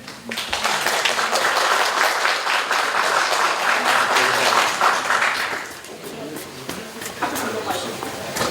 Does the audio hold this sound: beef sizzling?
no